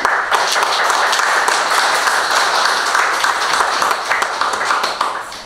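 A crowd at a ceremony honouring Paris-Roubaix champions applauds steadily and loudly for several seconds, dense clapping with no voices on top, tapering slightly at the end.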